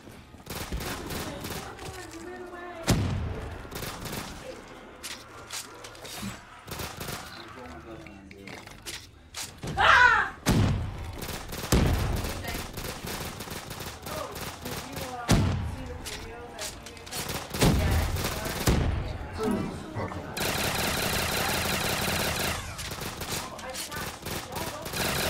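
Several players fire guns at once in a zombies map shooter game: bursts of overlapping gunshots and rapid automatic fire come in clusters with short gaps, closing with a sustained harsh rattle; voices are heard between volleys.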